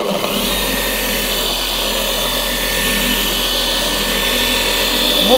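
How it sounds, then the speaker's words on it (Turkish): Flex XFE 7-15 random orbital polisher working on car paint to remove fine scratches, a loud, steady motor whir with a continuous rubbing hiss that holds throughout, with no talk over it. "Flex XFE 715 15 salınımlı bir makinedir"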